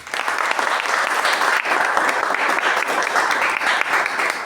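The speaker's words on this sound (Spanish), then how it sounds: "Por favor, si le pueden brindar un fuerte aplauso." At a book launch, the audience gives the author a loud round of applause, steady dense clapping with sharper individual claps standing out.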